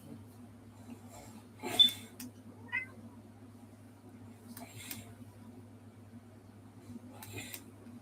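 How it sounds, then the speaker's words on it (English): A pet cat meows indoors in a few short, moderately loud calls spaced apart over a steady low hum, with no talking. "My cat."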